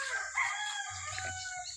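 A rooster crows at a rural rubber-farming village, its call rising and holding over roughly a second beside a second bird's clucks, moderately close and loud with no talk over it.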